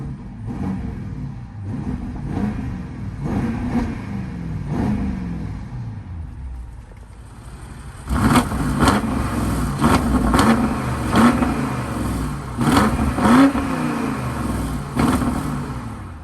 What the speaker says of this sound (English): Now that the car's a little bit more warmed up, let's go ahead and give it some revs.